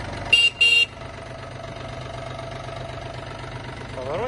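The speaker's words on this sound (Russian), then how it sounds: "Трактор работает чисто," A Yanmar AF-24 compact diesel mini tractor idles with a low, steady chugging hum, interrupted near the start by two short, bright horn beeps.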